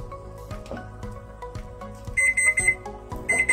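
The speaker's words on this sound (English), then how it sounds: "Oh, that's our timer." A kitchen timer alarm beeps in a steady pulsing rhythm, close and moderately loud, growing brighter toward the end.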